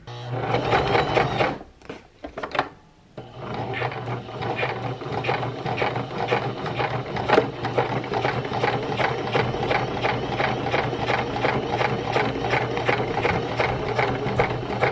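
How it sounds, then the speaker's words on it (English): A sewing machine runs in a fast, steady mechanical rhythm after a brief stop-start, stitching straight across ripstop fabric, close by with no talking. "We'll go to the sewing machine and I'm going to sew straight across that."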